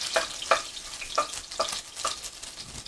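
Garlic frying in oil in a pan for homestyle pad thai, a soft continuous sizzle with repeated sharp scrapes and taps of a utensil stirring, heard close with no talk.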